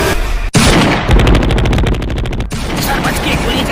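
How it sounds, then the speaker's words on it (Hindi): Automatic gunfire in a film shootout rattles in a rapid, loud burst lasting over a second, with a sharp crack before it and shouted voices around. "सर यहाँ गोलियां चल रही हैं।"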